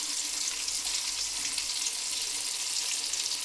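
Tomatoes frying in a pan for coriander chutney give off a continuous, even sizzle with a bright crackling texture, close and steady, no talking.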